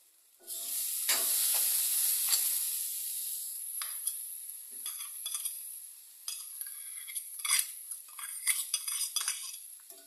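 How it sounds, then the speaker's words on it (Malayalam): Spoon mixing a ground spice paste of chilli, garlic and turmeric into thoran in a pan, with steady sizzling and repeated sharp metal scrapes and clinks close by. "ചതച്ചെടുത്തതാണ് തോരനുള്ള അരപ്പ് ചേർത്ത് നമുക്ക് യോജിപ്പിക്കാം"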